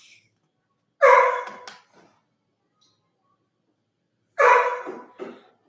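A dog gives two short, loud barks a few seconds apart, close by, with silence between and no talking.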